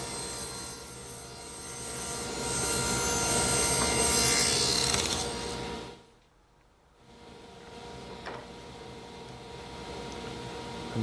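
A table saw rips mahogany blanks to width, a steady loud whining cut that swells and fades, drops to near silence for a moment, then the motor runs on alone afterward.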